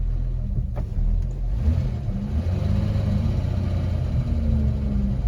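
A car pulls away and drives on in wet weather, with a close, steady low engine rumble and a slight rise in revs as it gets moving.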